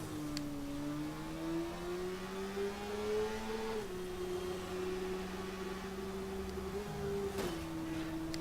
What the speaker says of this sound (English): So you can do this sort of thing on a motorbike.